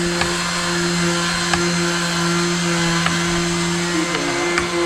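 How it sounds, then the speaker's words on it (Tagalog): A power drill whirs steadily at close range with a constant high-pitched motor whine, punctuated by a few sharp clicks, while working on old wood. "barena."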